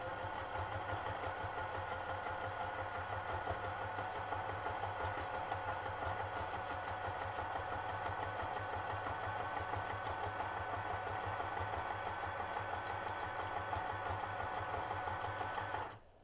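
An electric sewing machine stitches steadily and continuously for about sixteen seconds, a close, even mechanical whir with a fast rapid rhythm that runs without pause until it stops abruptly at the end.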